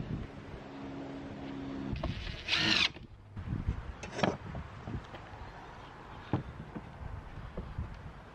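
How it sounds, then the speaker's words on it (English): A cordless power drill driving screws into a wooden garden trellis, short whirring bursts and a few sharp knocks at moderate distance, fairly quiet against a low background hum. "as I'm happy, I fully tighten the screws."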